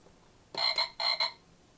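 Two short, buzzy electronic croaks come from a toy frog on a toy bus, evenly spaced and close, with nothing else audible.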